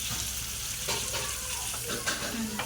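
Pieces of fish frying in hot oil over a medium flame, a steady close sizzle with soft crackles and occasional stirring clinks, with no voices.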